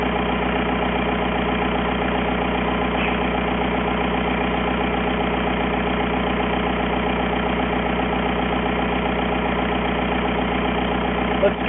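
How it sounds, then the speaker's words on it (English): A car engine idles steadily and loudly for the whole stretch, an even continuous drone with a faint regular pulse and no speech. "Obviously the car's running."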